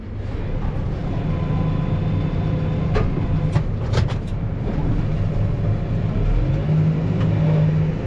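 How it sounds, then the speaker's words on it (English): A tractor tows a loaded hay chopper box holding about 15 tons during first-crop hay, its engine a steady, loud, close drone that holds throughout with a few faint clanks. "First time this tractor's ever pulled a chopper box."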